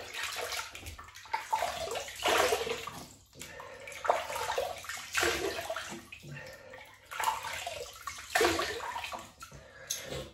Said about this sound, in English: So we'll rinse this. Rinse these whiskers off,